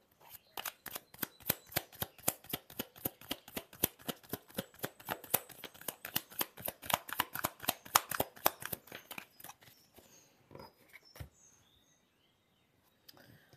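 Tarot cards being shuffled: a long run of quick, crisp riffling flutters in steady rhythm, close and clear, tapering off into a few soft card taps and near silence at the end.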